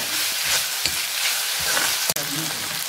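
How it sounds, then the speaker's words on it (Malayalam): Tomato and onion frying together in a pan for kovakka (ivy gourd) fry, giving a steady close sizzle with a few stirring scrapes and one sharp knock near the end. "തക്കാളി ഉള്ളിയും എല്ലാം കൂടി ഒന്ന് വാടി സെറ്റ് ആയിട്ടുണ്ട്."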